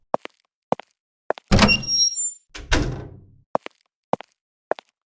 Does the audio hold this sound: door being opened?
yes